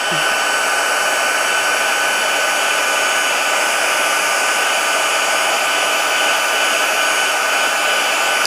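A heat gun blows continuously to melt embossing powder on a handmade card, a loud steady whirring hiss held evenly throughout with no pauses.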